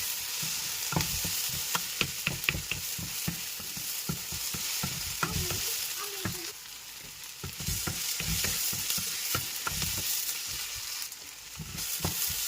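Onions fry in a pan for a squid masala, browning in a continuous close sizzle broken by frequent sharp spoon scrapes and taps, with no voices.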